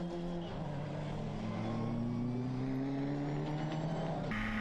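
An SP05 prototype race car with a 250-horsepower Peugeot four-cylinder turbo engine races on the Barcelona circuit, its engine droning and climbing steadily in pitch as it accelerates, loud and continuous, with a gear change near the end.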